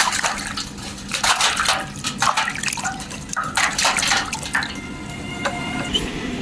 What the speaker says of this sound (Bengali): তো চালতাটাকে সুন্দর করে আমি ধুয়ে নিচ্ছি